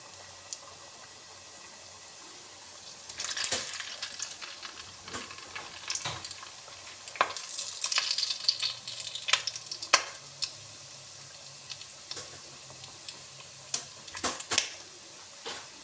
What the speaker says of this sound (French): Maintenant, je vais vous montrer comment on fait frire dans l'huile.